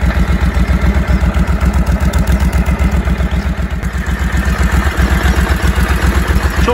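A Suzuki Desperado 800X V-twin cruiser motorcycle engine idles close by, a loud, steady, lumpy rumble with an even pulsing beat.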